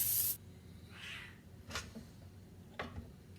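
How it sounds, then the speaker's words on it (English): Pet cats make faint, scattered noises in the background of a home kitchen during breakfast cooking. A brief spray hiss opens the clip, followed by a few soft, short sounds over low room hum. "my cats are in the background doing their normal when I'm cooking, making noise"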